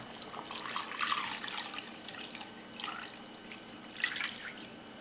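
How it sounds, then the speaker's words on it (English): Beef broth pours into a pot roast in the pan, a soft, close liquid trickle and splash with a few louder gurgling moments and no talk. "Then I'm also going to add 3 cups of the beef broth."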